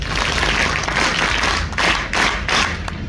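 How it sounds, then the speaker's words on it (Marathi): An audience at a lecture series claps together in a steady, rhythmic pattern, a loud unified burst of hands with regular pulses and brief dips between beats, without voices. "वाजवता येतात तुम्हाला टाळ्या?"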